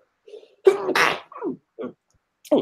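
A single sharp sneeze bursts out, followed by a few short breathy sounds in a quiet room.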